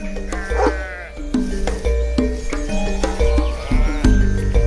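Sheep bleating in a flock guarded by Maremma dogs, repeated overlapping bleats near and far over a constant outdoor background, loud and busy.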